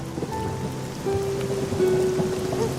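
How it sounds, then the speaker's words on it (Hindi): Steady rain falling outdoors at night, a continuous close hiss of drops on surfaces with a few faint tonal hums underneath; no voices. "मुझे बारिश बहुत पसंद है।"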